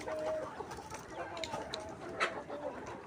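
Layer pullet chickens in a poultry house cluck and murmur in a steady, busy flock chatter at moderate distance, with a few brief sharper calls standing out.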